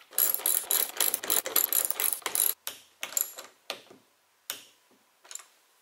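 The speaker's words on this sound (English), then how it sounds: "just tighten down the last bolt" Ratcheting wrench tightening hex bolts on a Rhino-Rack roof rack cross bar of a 2019-2021 Toyota RAV4, a series of close, quick clicking bursts that break into shorter, sparser strokes toward the end.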